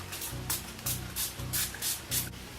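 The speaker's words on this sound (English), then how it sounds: "now I'm going to take my Gerard Cosmetics Slay All Day Setting Spray." Five quick bursts of Gerard Cosmetics Slay All Day setting spray mist hiss out in a steady rhythm, close by, with brief pauses between each spray and no talking.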